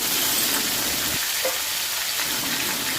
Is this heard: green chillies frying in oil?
yes